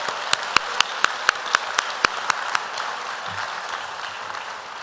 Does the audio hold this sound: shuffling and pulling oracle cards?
no